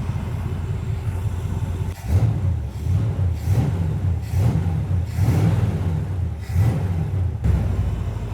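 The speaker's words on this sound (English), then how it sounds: "I can show you the little bit of smoke it's got when I rev it up." An old abandoned Pontiac engine being revved repeatedly: a low rumbling idle with about six throttle blips of rising roar, moderately loud and close, no talk.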